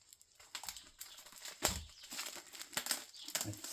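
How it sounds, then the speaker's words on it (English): Tape is handled and pressed onto a 600cc Stirling engine, giving close, faint crinkling and rustling with irregular sticky crackles and taps. "Then we will put on this tape here."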